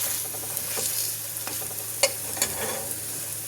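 Bread pakora fries in hot oil with a steady, close crackling sizzle, broken by a few sharp pops and clicks, and no one speaks.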